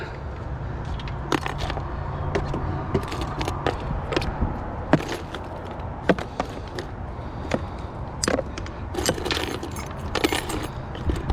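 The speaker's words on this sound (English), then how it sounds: "Those keys start to add up." Brass keys jangle and clink repeatedly as they are handled among scrap, a steady run of sharp metallic rattles close up against a rustling background.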